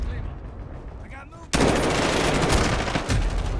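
A minigun in Modern Warfare spools up and then unleashes a loud, continuous roar of rapid gunfire that runs unbroken to the end, with a voice faintly underneath before it starts.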